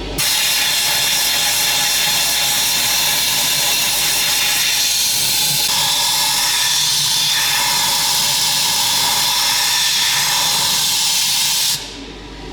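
A Renault Duster intercooler being flushed in the reverse direction to wash out turbine fragments and oil, a loud, steady rushing hiss of spray that holds for about twelve seconds before cutting off abruptly.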